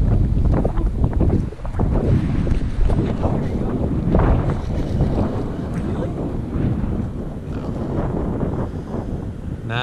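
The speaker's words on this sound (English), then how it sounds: "It mentioned that wind was supposed to start at some point." Wind gusts across the water during drift fishing for steelhead in high, muddy water, a constant roar with buffeting on the microphone and faint boat and water noise, and voices talking underneath.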